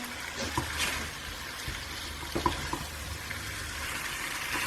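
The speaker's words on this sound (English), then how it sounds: "So we're going to cook these spices through for about 5 minutes." Spices frying in a pan for bhuna chicken curry, a steady close sizzle with occasional stirring scrapes and small pops.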